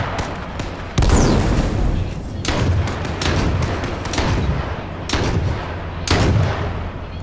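Repeated gunfire in the video game Z1 Battle Royale, a battle royale shooter. Loud, booming shots arrive in irregular bursts, each with a heavy low thump and a sharp crack, over a steady rumbling background.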